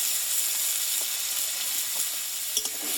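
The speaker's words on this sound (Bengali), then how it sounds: "দিয়ে মশলাটা আমি ভালোভাবে একটু কষিয়ে নেবো" Salt and turmeric powder with spices sizzling in a hot pan while being fried for dudh kochu, a soft steady hiss with a faint stir or scrape near the end.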